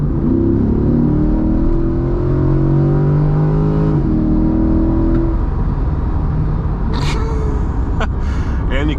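A C8 Corvette Stingray engine accelerates hard from inside the cabin, a loud steady roar with rising pitch sweeps as it pulls away in traffic, a driver talking over it.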